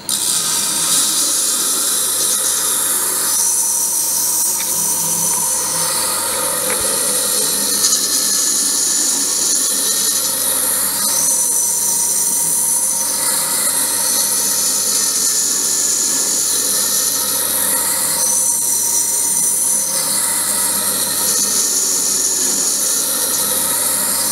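A Tormek T-3 sharpening machine runs steadily while a blade is sharpened against its wheel, giving a constant whirring hum with a soft grinding hiss that swells slightly at intervals, alone and fairly loud throughout.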